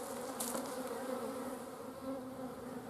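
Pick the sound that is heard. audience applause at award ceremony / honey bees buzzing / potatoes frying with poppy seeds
honey bees buzzing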